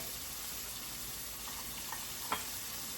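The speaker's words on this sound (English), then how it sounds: "we're going to do a really pretty piece of pineapple to go on top of or with our tuna. So I'm going to drop the pineapple in." Three pineapple slices, about 3/8 inch thick, sizzle in butter in a pan, a soft steady frying hiss with a faint clink near the end.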